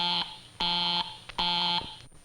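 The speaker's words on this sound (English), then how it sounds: "you may hear the busy signal" An old telephone busy signal gives two loud, buzzy tone bursts of about half a second each with silent gaps between, heard alone.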